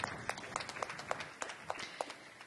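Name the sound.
round of applause at a conference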